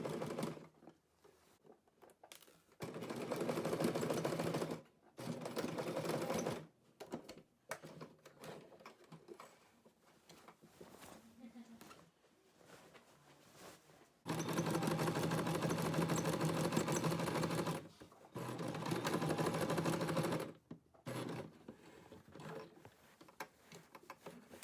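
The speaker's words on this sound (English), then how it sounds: "just hemming it and enjoy the wonderful sounds of a sewing machine." A sewing machine hems a midi skirt made from thrifted fabric, running in several loud, steady bursts of rapid stitching separated by short pauses, close up with no talk.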